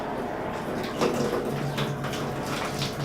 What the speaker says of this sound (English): I'll just turn the faucet on and it'll drain the system.